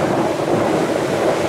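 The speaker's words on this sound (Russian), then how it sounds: "О, такие волны идут" Stormy evening sea waves rolling onto the shore at Lyubimovka: a steady, loud wash of surf roar mixed with gusty wind buffeting the microphone, no voices.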